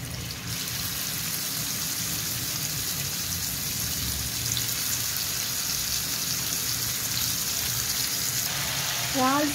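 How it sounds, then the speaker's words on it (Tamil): Cleaned prawns frying lightly in hot oil give a continuous, even sizzle and crackle close up, and a voice starts talking just at the end. "நம்ம க்ளீன் பண்ணி வச்சுருக்கிற இறாலை வந்து இதில் லைட்டாக பொறிச்சு எடுக்க போகிறோம்"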